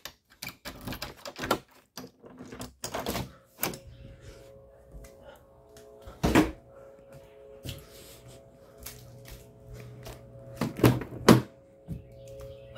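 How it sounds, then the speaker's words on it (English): Car door being unlocked and opened, with a series of sharp clicks and clunks of latch and handle close by, separated by short pauses, plus faint rustling in between. "And unlock the door right here."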